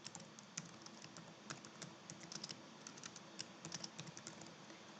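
Quick, irregular clicks of fingers typing on a computer keyboard, with soft, close keystrokes arriving in short bursts over a quiet room.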